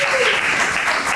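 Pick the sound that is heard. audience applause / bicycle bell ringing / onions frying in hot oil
audience applause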